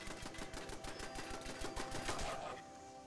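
Turrets in the Fallout 76 video game fire guns in quick rattling bursts, a steady run of rapid shots that are faint and somewhat distant, with no voices.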